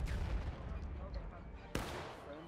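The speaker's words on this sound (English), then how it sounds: "Artillery hitting just short with that fuse." Artillery fire in a multiplayer Civil War battle game, heard as a dense rumbling barrage with one sharp, loud boom near the end, all under background battle noise.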